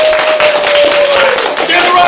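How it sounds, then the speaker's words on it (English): A burst of clapping from a crowd at a martial arts belt ceremony, steady and fairly loud, with a voice briefly audible over it. "Give your families a big round of applause."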